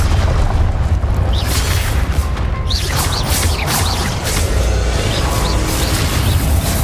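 A Confringo blasting spell explodes in the video game Hogwarts Legacy: a loud booming burst with crashing debris, followed by continuous rumbling battle noise and scattered sharp magical whooshes throughout.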